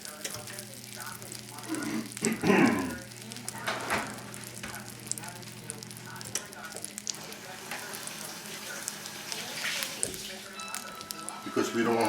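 A rack of veal sears in a pan over a moderately high flame, giving a steady close sizzle and frying crackle with occasional louder spits, under ongoing talk.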